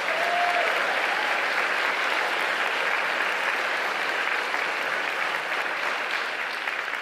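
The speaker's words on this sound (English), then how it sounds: "Please give them a round of applause." A town hall audience gives a sustained round of applause for a congressman's district staff, an even wash of many hands clapping, steady and moderately loud with no talking.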